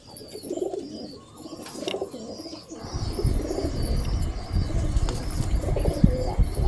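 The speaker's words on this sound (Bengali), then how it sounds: "সব অ্যাক্টিভ পায়রা।" Several caged pigeons in Canning, West Bengal, give soft low coos, then a rougher burst of wing flapping and rustling swells up and carries on, near and moderately loud, with no voices.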